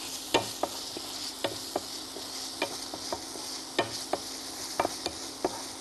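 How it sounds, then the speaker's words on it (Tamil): Greens sautéing in a pan, a faint continuous sizzle with frequent light ticks and taps of a spoon stirring, quiet and close with a steady hum underneath. "கீரை ஒரு 3 நிமிஷம் ஆகும் வதக்கிறதுக்கு"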